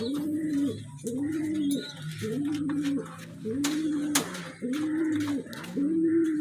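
An adult pigeon, a breeding bird now resting, gives repeated throaty coos close by. Each coo rises and falls in a steady rhythm of about one per second, with faint clatter and background sounds between them.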